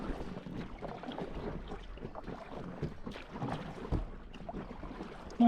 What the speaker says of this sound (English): I'm gonna paddle with it for a while without the skeg